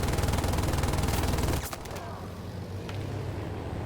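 B-17 nose cannons in the Battlefield 1942 remaster video game fire a rapid, evenly spaced burst for about a second and a half, then stop, leaving faint background rumble and scattered distant pops.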